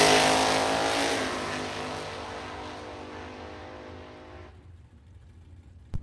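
Supercharged dragster and a Chevy Monza roar off the line in a drag race, a loud broadband engine blast that fades steadily as the cars pull away, ending with a brief sharp thump.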